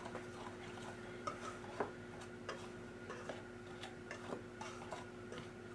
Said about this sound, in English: what I'm going to do is mix the dry ingredients together.